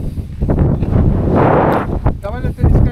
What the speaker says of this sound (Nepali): हावा पनि यस्तो बबल चलिरहेको